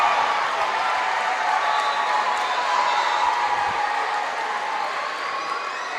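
A women's college basketball crowd in a gym cheers for Fairfield during a game against Sacred Heart, a sustained roar of voices and applause holding at a steady, loud level across the whole stretch.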